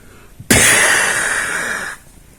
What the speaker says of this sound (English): Sounds like the Bifrost.